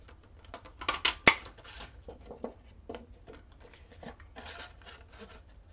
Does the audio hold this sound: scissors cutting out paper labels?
yes